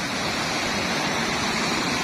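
Floodwater from heavy rain rushing down from the hills in Islamabad, a steady dense roar of flowing water, loud and continuous with no pauses and no voices.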